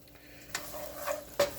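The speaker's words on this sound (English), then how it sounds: "I don't know why I'm stirring it so much" Two cloves of garlic sauté in a pan for Hong Kong noodles, a faint sizzle broken by two brief scraping stirs of a utensil against the pan, quiet and close.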